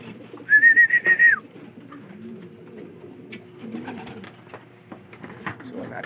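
Racing pigeons coo at their loft. A brief, clear cooing call sounds early on, followed by quieter murmuring and background activity, with someone talking at low level.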